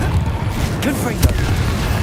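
Confringo fire-blast spell in the Hogwarts Legacy video game, a low booming rumble with one sharp crack in the middle, heard under a voice speaking.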